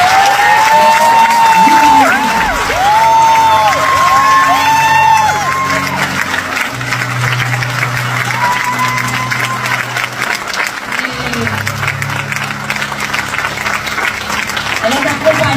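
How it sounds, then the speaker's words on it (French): Loud applause and cheering from a community ceremony crowd welcoming Vanessa Benjamin, with whoops and shouts over steady clapping and music, sustained throughout. "je vous demande d'applaudir très très fort Vanessa"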